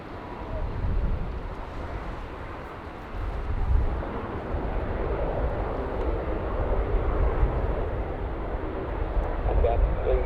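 An Etihad Airbus A380-861 touching down at Manchester, a steady broad roar of jet engines and rushing air with wind buffeting the microphone, loud and continuous throughout.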